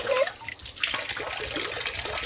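Water flows steadily near a Shiva temple, a soft continuous trickle and gush heard at close range, fairly quiet throughout.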